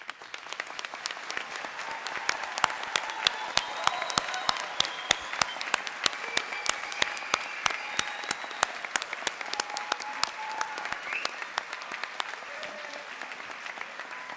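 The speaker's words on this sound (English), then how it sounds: "You know, you can never give too much applause." An audience at a spring nursing convocation with pinning and hooding applauds steadily, many hands clapping in a crisp, continuous patter with some scattered louder claps and faint voices underneath.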